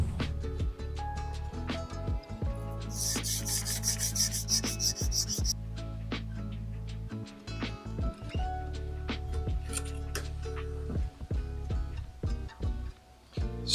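A knife blade sanded by hand with coarse first-grit paper, steady close rubbing strokes over a constant low mechanical hum and clatter, with scattered clicks and no clear speech.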